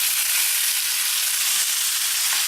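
Diced fire-roasted organic tomatoes hitting a frying pan with cooked garlic give a loud, steady hiss of sizzling that holds evenly throughout, with no voices.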